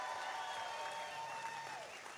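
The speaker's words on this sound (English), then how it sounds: "How about another big round of applause for your mayor" A crowd at the National Folk Festival opening ceremony in Salisbury, Maryland, applauds the mayor, a faint, distant, steady wash of clapping heard outdoors.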